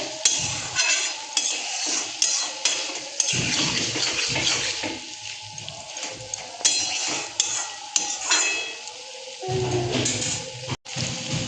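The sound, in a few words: stirring poppy seed paste with potol in a pan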